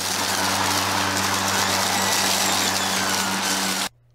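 An EGO LM2167SP cordless battery lawn mower set to turbo cuts through grass with a loud, steady whirring hum and broadband rush, then cuts off abruptly near the end.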